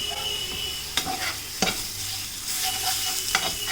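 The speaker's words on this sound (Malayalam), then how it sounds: "ഞാൻ ഇതിലേക്ക് 1 ടീസ്പൂൺ ജിഞ്ചർ ഗാർലിക് പേസ്റ്റും കൂടി ഇട്ടിട്ട് ഇളക്കി കൊടുക്കും." Frozen ginger garlic paste stirred into onions frying in a pan: a steady, close sizzle broken by three sharp scraping stir strokes.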